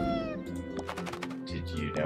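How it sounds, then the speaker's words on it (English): Cat meows in the video game Shop Titans, a few short mewing calls mixed with a person talking over them at close range. "Oh, kitty! Did you know how expensive you are?"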